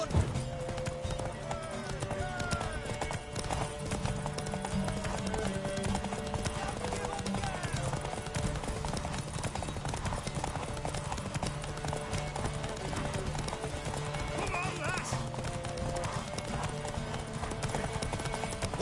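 Horse hooves clip-clop in The Witcher 3, a steady rhythmic trotting that plays throughout over game music and ambient sound.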